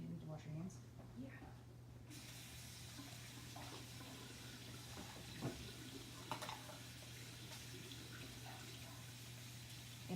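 Tap water running steadily into a kitchen sink as a child rinses his hands after handling eggs, a soft continuous splashing stream over a low hum, with voices nearby.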